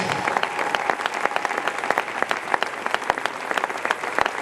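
Steady crowd applause with dense, even clapping throughout, at the close of a wedding ceremony where a speech honours a family matriarch; loud and sustained, with a few sharper individual claps standing out.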